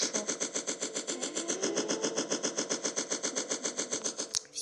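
Rapid automatic gunfire from a dinosaur survival video game rattles in a steady fast stream of shots, loud and unbroken, with no talk.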